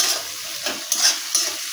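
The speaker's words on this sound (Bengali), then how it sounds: "পেঁয়াজগুলো একটু লাল লাল করে ভাজাও" Chopped onions with turmeric frying in a pan for a village-style spicy chicken curry, a steady close sizzle with several scraping stirs of a spoon, and no voices.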